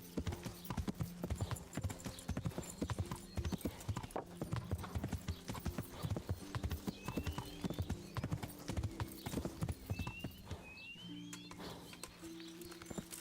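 Horse hooves clip-clopping in the video game Kingdom Come: Deliverance, a steady close rhythmic trot of hoofbeats with faint birdsong above, running the whole time without pause.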